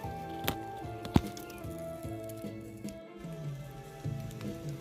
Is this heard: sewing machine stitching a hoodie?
no